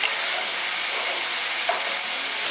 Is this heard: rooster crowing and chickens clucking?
no